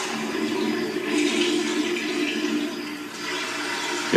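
A toilet flushes in a house, a steady rushing gurgle of water lasting several seconds, close and fairly loud, with no talking.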